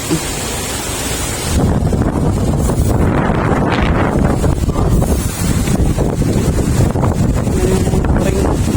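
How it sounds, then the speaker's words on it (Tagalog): Strong storm wind under Signal No. 1 in Surigao buffets the microphone with a loud, continuous roar, and it gusts harder after the first moments. "Grabing hangin, no?"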